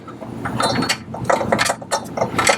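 A fastener is tightened on a TunerRack center lifting jack pad under a car, heard as a close series of quick ratchet clicks in uneven bursts.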